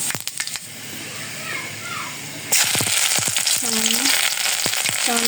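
Panch phoron spices crackle and sizzle in hot oil in a scorched kadai, a loud sharp hiss bursting in and holding steady with scattered pops and stirring clatter, while a voice talks briefly over it.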